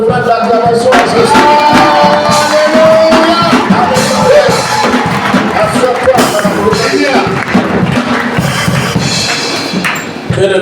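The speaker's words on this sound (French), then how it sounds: "Est-ce que tu peux donner une offrande d'acclamation à Jésus?" A church congregation cheers and applauds for Jesus, loud and close, with a dense mix of shouting voices, clapping and occasional thuds throughout.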